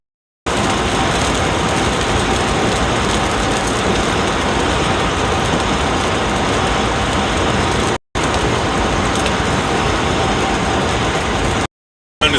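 Steady rain drums on a car as it drives along, a dense, continuous hiss with road rumble beneath, broken by one brief dropout.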